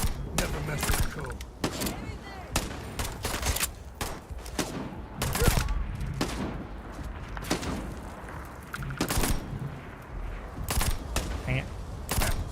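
Rapid gunfire from the Starfield video game comes in repeated loud bursts and single shots throughout, with a voice talking between and over the shots.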